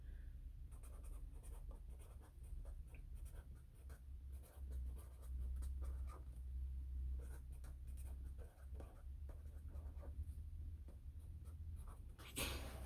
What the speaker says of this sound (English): So I'm just going to write